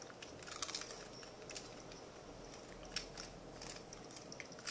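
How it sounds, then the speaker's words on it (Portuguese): Quiet crunchy bites and chewing of potato chips, close to the microphone, with a few sharp crisp crunches over a soft background hiss. "é que eu tô comendo batata"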